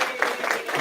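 A crowd applauding at a grand opening and ribbon-cutting ceremony as scholars walk in, a brief even patter of clapping that sounds somewhat distant and diffuse.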